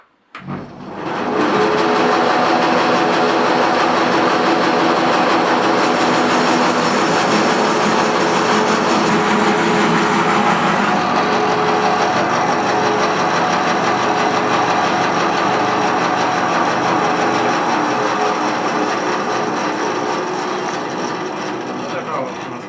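A steady, loud mechanical whine of a band saw running continuously as it cuts a log into boards, a dense sustained roar without pause for the whole stretch.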